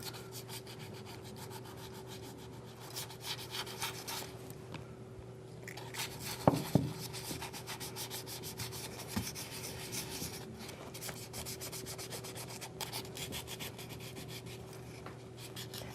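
Steady, quiet rubbing and rasping of sandpaper on a small piece of polymer clay, continuous strokes with a low background hum and a couple of brief knocks.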